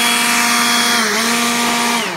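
A Ryobi leaf blower runs at steady full power, a loud, continuous high whine with a constant tone that dips slightly near the end, close up with no voices.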